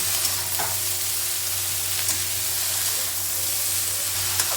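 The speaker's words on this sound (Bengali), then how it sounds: "এবার আমি ভালো করে নেড়ে নেব" A pan of eggplant, beans and cauliflower frying in oil is stirred, giving a steady, close sizzle with soft scraping throughout and no voices.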